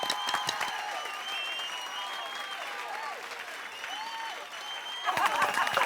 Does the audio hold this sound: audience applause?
yes